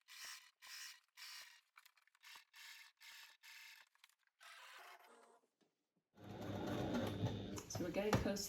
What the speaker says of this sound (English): So as I sew along the perimeter of the bag, I'll straighten the bag out ahead of where I'm going to stitch.